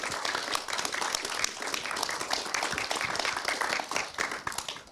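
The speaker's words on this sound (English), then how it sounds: "please, a very warm round of applause for all the developers here" A hall audience at a South African game developers showcase session applauds the developers, dense sustained clapping from many hands filling the room for the whole stretch before fading at the end.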